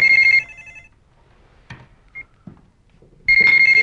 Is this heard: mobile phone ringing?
yes